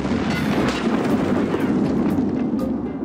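A grenade blast in the Escape From Tarkov shooter gives a dense, sustained roar with heavy low rumble that stays loud across the whole moment, with no talk over it.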